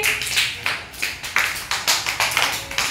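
Children at an anganwadi activity clapping for a classmate, a brisk run of sharp hand claps repeating steadily and close by, with no voices over them.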